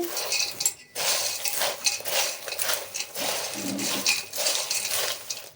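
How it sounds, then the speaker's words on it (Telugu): A spiced fried snack mixture being mixed by hand in a bowl, busy close rattling and clinking of crisp pieces in quick uneven bursts, with no talk. "ఇప్పుడు మొత్తం కలిపేసుకోవాలి"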